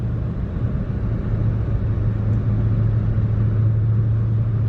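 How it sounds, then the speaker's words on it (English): A Porsche Panamera is driven hard in a handling test, its engine giving a steady, loud, low rumble with a constant droning hum and no pauses. "I'm testing my Panamera's handling"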